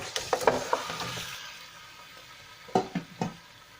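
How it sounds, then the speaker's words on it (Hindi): Ghee hits hot oil in a pot for nihari, bursting into a loud crackling sizzle that fades to a low hiss, followed by a couple of clattering knocks from a spoon or pot. "अब मैं इसमें डालूंगी घी"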